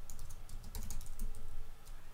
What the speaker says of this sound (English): as we're typing